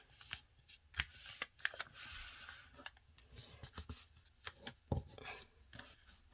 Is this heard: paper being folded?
yes